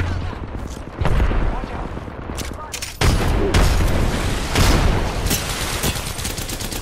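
A grenade blast in the battle royale video game Apex Legends is heard with loud, booming gunfire and explosions. It fills the mix from start to finish, and strong impacts land near 1, 3 and 4.5 seconds.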